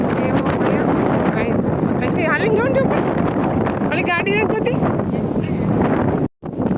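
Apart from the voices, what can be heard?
strong wind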